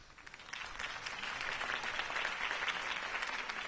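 A crowd applauds in Batman: The Telltale Series, dense clapping that swells quickly and holds steady at a moderate distance.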